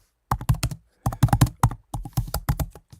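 Close, crisp bursts of keystrokes on a computer keyboard, clattering in quick irregular clusters with brief pauses between runs, alone without any talk.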